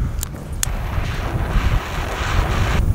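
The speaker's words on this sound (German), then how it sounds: "Wir haben so viel Wind" Wind buffeting a microphone outdoors at a small firework rocket test, a loud, continuous low rumble with a couple of brief sharp crackles near the start and no speech.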